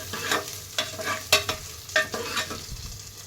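Dried red chillies and fennel seeds fry in a pan with a soft sizzle, broken by several sharp scraping stirs of a spoon, close and fairly quiet with no talking.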